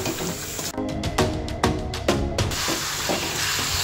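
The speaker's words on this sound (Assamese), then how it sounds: "এতিয়া দি দিম আমাৰ মেৰিনেট কৰি থোৱা চিকেনখিনি আমি ইয়াত দি দিম বঢ়িয়াকৈ একবাৰ এতিয়া লৰাই দিম দেই" Marinated chicken dropped into a hot pan of spices and stirred, giving a steady sizzle broken by a run of scraping stirring strokes.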